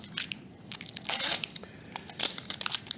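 Protective plastic film peeled off a Goldwing motorcycle saddlebag lid organizer, with close crinkling and crackling bursts of the film tearing away, alone without talk.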